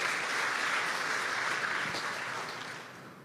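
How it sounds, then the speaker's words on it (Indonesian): A church congregation claps in praise, a soft and steady patter of many hands at moderate distance that slowly fades toward the end. "Kasih tepuk tangan nih, meriah buat Tuhan."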